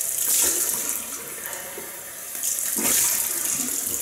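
Water runs from a bathroom tap for rinsing after a shave, a steady close hiss that swells and eases twice as the flow is interrupted by hands.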